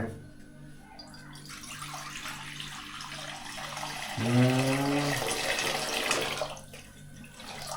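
Tap water pouring straight into a kadai for Maggi noodles, a steady close splashing stream that grows fuller and louder midway as the pan fills, with faint background sounds.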